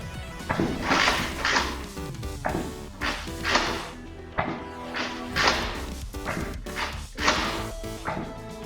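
A Nerf Modulus Longstrike CS-6 blaster fires AccuStrike darts in a quick series of sharp snapping shots, each followed by a brief mechanical clack as the blaster is primed, close up and loud, with no speech.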